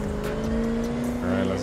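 A car engine roars steadily in the racing game The Crew 2 on a drive from Vegas to Miami, a sustained droning hum with tire noise under a person talking.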